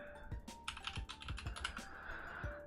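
Keys clatter on a computer keyboard during a live tech show broadcast, a brisk, close run of uneven taps and clicks with no voices over them.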